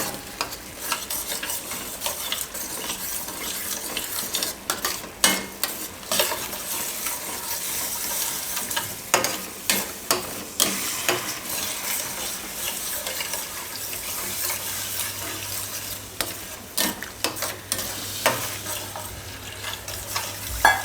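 A spoon stirs a sauce in a pan on the stove as milk is added a little at a time for Gujarati-style desi pasta, giving soft, continuous scraping with scattered clinks and a faint background sizzle.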